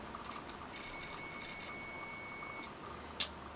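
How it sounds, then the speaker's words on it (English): A single steady electronic beep from a multimeter continuity test, lasting about two seconds, high-pitched and fairly close, followed by a brief click. "So I've got my multimeter here set to beep"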